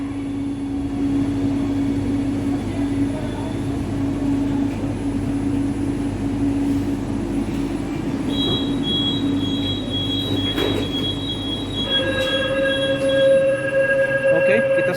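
A Jakarta LRT light rail train pulls into Pegangsaan 2 station with a steady loud motor drone and rumble, high squealing wheels partway through, and tonal chimes or whines emerging toward the end.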